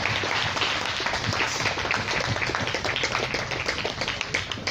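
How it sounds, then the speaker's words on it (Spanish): Loud, sustained applause from a large church congregation, dense and steady from start to finish, with no talking over it. "démosle un fuerte aplauso al Señor"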